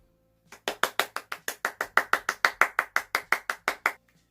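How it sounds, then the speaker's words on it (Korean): Children clap together in a quick, even rhythm at a Sunday school service, about sixteen crisp, loud, evenly spaced claps in unison, then silence. "우리 있는 자리에서 힘찬 박수를 쳐줍시다."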